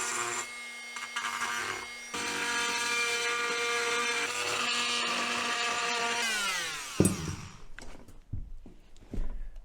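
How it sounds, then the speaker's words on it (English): An oscillating multi-tool fitted with a metal bit cuts a door weather bar with a steady, buzzing whine. The whine changes pitch partway, then stops, leaving a few clunks and knocks. "I'm going to use a multi-tool with a metal bit on"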